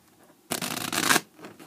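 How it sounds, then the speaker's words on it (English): A deck of playing cards is riffle shuffled in one quick, crisp burst of rapid fluttering clicks lasting under a second, close and clear against a quiet room. "Do a quick riffle shuffle."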